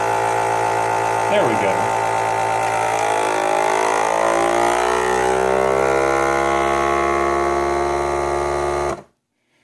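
A vacuum sealer runs with a loud, steady motor hum as it pulls air from a bag of lamb sirloin for sous vide, rising in strain before cutting off abruptly near the end; a brief spoken remark sits over it.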